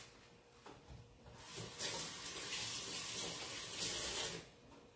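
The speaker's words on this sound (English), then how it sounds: "let me wash my hands really quick" Water running steadily from a kitchen tap while hands are washed, a soft continuous splashing rush lasting a few seconds, fairly faint and heard alone.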